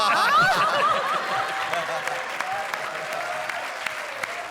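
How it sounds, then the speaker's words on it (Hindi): A studio audience at a TV comedy show bursts into loud applause mixed with chuckles and laughter, the clapping dense at first and then settling into a steady patter. "जोरदार तालियां"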